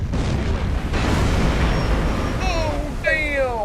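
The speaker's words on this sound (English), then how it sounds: "Did you hear the sound of that explosion?" In a submarine war-patrol video game, a torpedo strikes an enemy ship's engine room. The result is a loud, sustained rumbling boom that rolls on for several seconds, with tonal, groaning metallic wails rising near the end.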